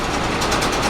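The engine of a street-legal Ferrari F40 LM runs at a steady, dense roar with a rapid pulsing exhaust note, loud and close, with no talk over it.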